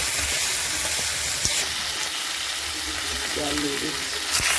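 Bhetki fish pieces fry with spices in a pan for a fish-head kanta chorchori, giving a loud, steady, close sizzle throughout with a faint voice briefly underneath.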